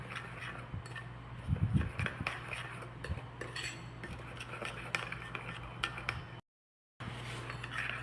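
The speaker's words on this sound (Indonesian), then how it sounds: "Dan kita aduk sampai si kopi dengan airnya tercampur dengan merata ya" A spoon stirs instant coffee into water in a bowl, giving soft scraping clinks of metal against the bowl, louder in a brief cluster early on, over a steady low hum, with a short silent gap near the end.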